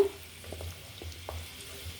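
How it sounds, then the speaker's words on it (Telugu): Amla, Indian gooseberry pieces, frying in oil in a pan while being stirred, a soft steady sizzle with faint scraping stirs and no voices. "అందుకని ఇలా కొంచెం కలుపుకుంటూ వేయించుకోవాలి"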